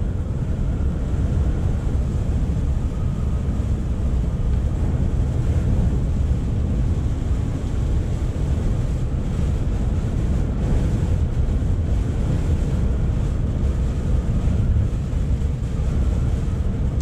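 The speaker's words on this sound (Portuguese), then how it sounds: "tá ventando e forte ainda" Strong wind roars and buffets the microphone continuously, a dense low rumble with no letup and no voices, at the Queen Elizabeth Bridge in the UK.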